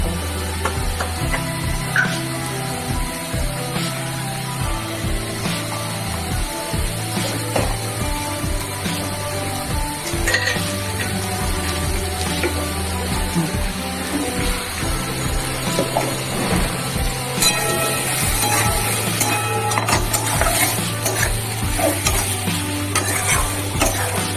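Prawn curry with kohlrabi and new potatoes being stir-fried in a pan, with a loud, close sizzle under repeated scraping and stirring strokes throughout.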